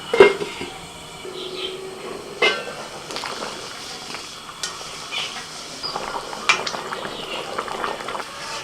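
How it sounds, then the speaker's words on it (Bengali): Mutton curry with potatoes in a covered pot after water is added, a low bubbling simmer under scattered clinks and knocks of pot and utensils, with occasional faint background voices. "ভালোভাবে কষিয়ে নিয়েছি এবার জল দিয়ে দিচ্ছি ঢাকা দিয়ে দিচ্ছি"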